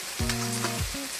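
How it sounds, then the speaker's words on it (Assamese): Potatoes and onions with turmeric and salt frying in a pan, a steady close sizzle with a low tonal hum sliding in pitch in the background, no talk. "হালধি নিমখ দি 1-2 মিনিট এইখিনি ভাজি লম"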